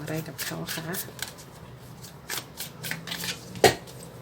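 Tarot cards are shuffled close up in rapid riffling bursts, ending in a sharper snap, while a voice speaks over the shuffling.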